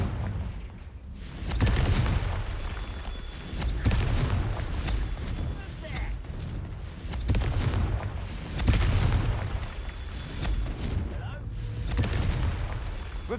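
Confringo fire spell blasts in the Hogwarts Legacy video game: a run of heavy, rumbling booms and explosions roll one after another through a dense, continuous combat din, loud and close for the whole stretch.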